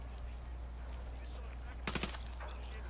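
A short, sharp burst of rapid gunfire in the Ghost Recon Wildlands shooter, a few quick shots in a row over a constant low background hum.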